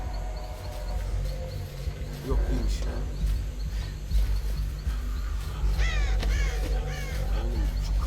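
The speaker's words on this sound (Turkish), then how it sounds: "kargaları uçurunca da yerimizi belli ediyoruz ya." Crows caw as they take flight in the Dead by Daylight video game, with scattered harsh calls over a constant low game ambience and a voice talking throughout.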